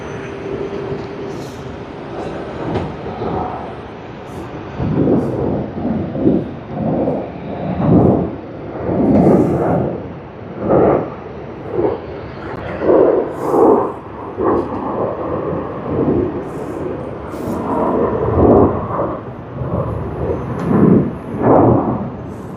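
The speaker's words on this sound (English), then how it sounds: "we finally have Vietnam Airlines coming in from Ho Chi Minh City, VN773 on its Airbus A350-900" A Vietnam Airlines Airbus A350-900 arrives at Sydney Airport. A heavy, surging jet rumble swells and fades in repeated waves, loud and sustained throughout.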